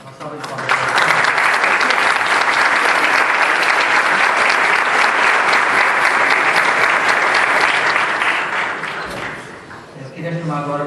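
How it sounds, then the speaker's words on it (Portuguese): Loud, sustained audience applause at an academic conference opening, a dense wash of clapping for about eight seconds that fades out as a voice returns. "Uma salva de palmas."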